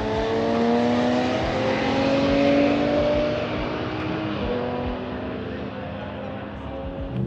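Rally car engine roaring loud and close in a fourth-gear burnout, a sustained high rev that slowly sags in pitch, with rough crackling texture and some background voices.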